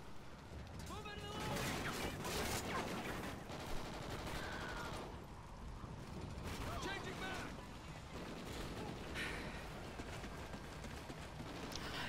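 Gunfire in Call of Duty: Ghosts against bots, with sustained bursts of shots and mechanical clatter running continuously at moderate loudness throughout the battle.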